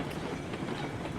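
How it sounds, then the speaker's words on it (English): Steady rumble of a locomotive running flat out along rails in the RailRoads Online video game, with a continuous broadband roar and faint clickety-clack throughout, no talking. "apparently you can just kind of run full on out now with the locomotive."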